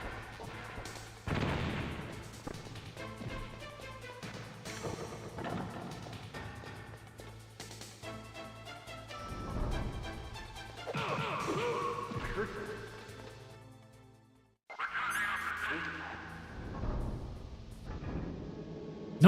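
Stun grenades in Metal Gear Solid go off in a string of sharp booms and crashes amid game music and sound effects, with a person talking over much of it.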